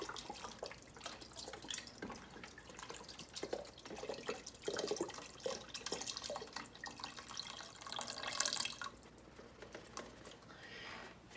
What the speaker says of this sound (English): Then I'll pour it in there.